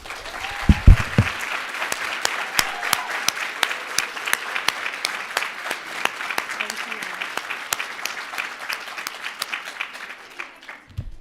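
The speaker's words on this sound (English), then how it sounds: "Would you all join me in giving them a hand clap, please?" An audience at a pinning ceremony claps together in a sustained round of applause, steady and moderately distant, tapering off near the end.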